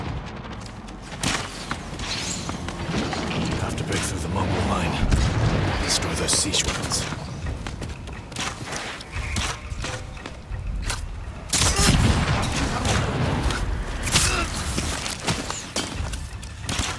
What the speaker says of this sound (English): Siege weapons.